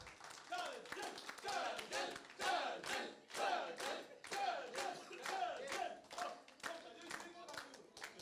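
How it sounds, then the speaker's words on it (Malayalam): An audience claps for Shajil as new office bearers are inducted: distinct, rhythmic rounds of hand claps from a modest group, close and punchy, with scattered voices calling out among the claps. "അദ്ദേഹത്തിന് നല്ല കൈയടി കൊടുക്കൂ"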